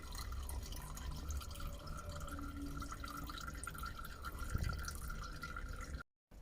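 Coolant drains from the midsection of a Toyota MR2's engine as a steady, close trickle and drip of liquid that carries on without a break, with no voices.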